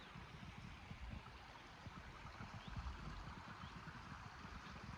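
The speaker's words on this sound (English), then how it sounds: "This lovely little river here." A small river in the Ennerdale valley flows steadily with a faint, continuous babbling and gurgling, heard at a distance, low and even throughout with no voices.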